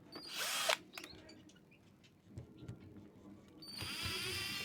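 A power drill whirs in two bursts while it backs screws out of a heavy-duty extension cord plug, loud and close at the start and again near the end. Quieter handling noises fill the gap between the bursts.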